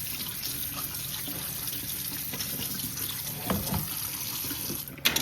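Pigtail being rinsed under a running kitchen tap, a steady splashing stream of water into a sink with brief clunks of handling near the end, heard alone.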